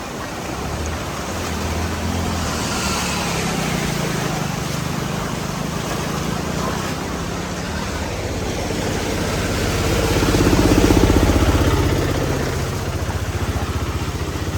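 Vehicles roll through a flooded road in Valanchery, a loud continuous whoosh of water spray and engine rumble that swells as one passes near, with rushing water beneath.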